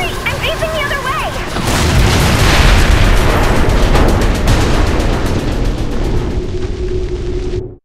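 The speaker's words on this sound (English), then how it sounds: "I just blew up a capital ship" A capital ship blows up in Saints Row IV with a loud, sustained roaring blast that rumbles heavily for several seconds before cutting off abruptly; earlier game tones fade out as the explosion swells.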